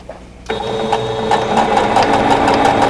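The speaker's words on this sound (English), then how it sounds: "now I'm going to go ahead and sew that 1/4 inch seam allowance" A sewing machine stitches a 1/4 inch seam allowance through quilt block fabric, starting after a brief pause and then running as a steady, close, rapid mechanical whir with rhythmic needle ticks.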